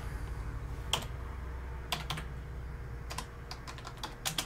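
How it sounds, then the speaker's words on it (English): Keys on a computer keyboard clack in scattered short bursts, a few quick taps at a time separated by pauses, close and fairly quiet over a steady low hum. "You're not actually typing anything."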